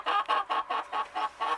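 A chicken guarding its nesting boxes in a backyard coop clucks in a steady rhythm, about seven close, clear clucks in quick succession with no talk.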